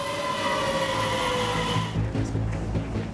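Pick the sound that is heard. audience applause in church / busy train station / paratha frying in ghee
busy train station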